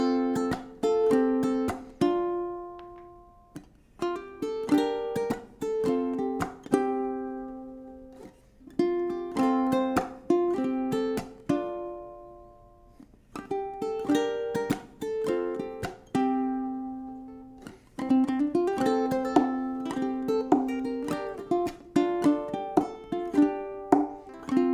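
Ukulele plays the verse of a song, a mix of plucked notes and strummed chords in a steady, laid-back groove, close and clear with brief pauses between phrases.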